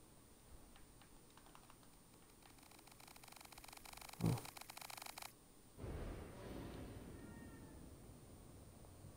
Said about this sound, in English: Hey, look, cat.